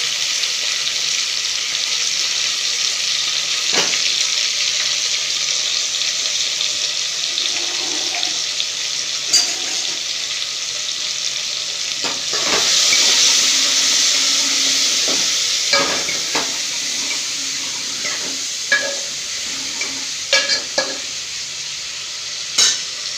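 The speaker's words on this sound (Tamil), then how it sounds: "பச்சை மிளகாய், எல்லாம் வச்சு வதக்கிக்கணும்" Green chilies are sautéed in a pan with onion and tomato, a loud continuous sizzle broken by sharp spatula clacks and scrapes against the pan at irregular moments, with no talk.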